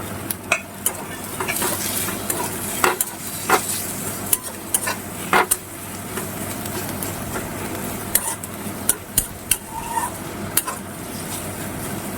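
Chopped carrots and potatoes stir-fried in hot oil with onion and chilli for a Bengali poha pulao, a soft continuous sizzle broken by repeated sharp scrapes and clinks of a spatula against the pan.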